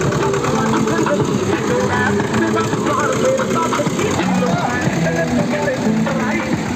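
A tractor engine runs steadily at close range, giving a loud, even low-frequency chug with a knocking, vibrating character that persists throughout under voices and some music.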